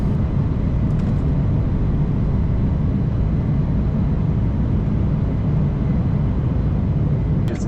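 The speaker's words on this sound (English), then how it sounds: "On the runway, we have takeoff." United Airlines Embraer E-170 regional jet on its takeoff run, heard from inside the cabin as a loud, steady low-pitched engine roar and rumble that fills the whole stretch without a break.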